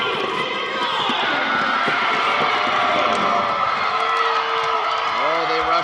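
Fan group at a Division 3 competitive cheer finals, cheering and whooping from behind, a busy crowd roar with a rising shout near the end, while commentators talk over it.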